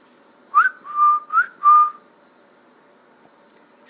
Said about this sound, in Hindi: सीटी बजा रही है